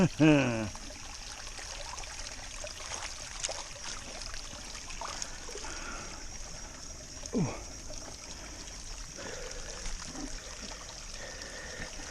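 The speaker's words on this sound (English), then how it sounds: "Watch this. I'm gonna get my hat wet." Water trickles and drips from a hat soaked in a mountain stream, set against the steady rush of running water nearby, with a few brief voice exclamations.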